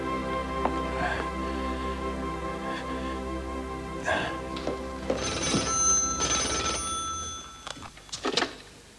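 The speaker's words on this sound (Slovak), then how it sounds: "Pán Green, máte telefón?" An old telephone bell rings in repeated bursts with short pauses between them, close and clear in a quiet room. Faint movement sounds come between the rings.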